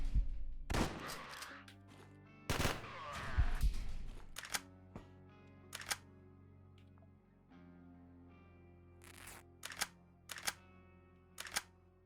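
Several sharp gunshots in the video game Quasimorph strike a wall, arriving as a couple of loud broadband bursts early, then scattered single cracks spaced seconds apart over a low humming game backdrop.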